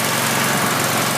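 A 3940 stump grinder's small engine running steadily, a loud close buzzing drone with a constant high-pitched whine and no change over the short stretch.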